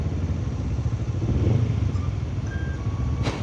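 A motorcycle rides along town roads, its engine giving a steady, close, continuous rumble mixed with road and wind noise, with no talking.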